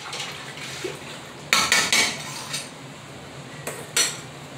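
Utensil scraping and clinking against a metal pickling pot, stirring sugar loose from the bottom for sweet pickles; a few close, bright strokes in uneven bursts over a low steady hum, with no talking.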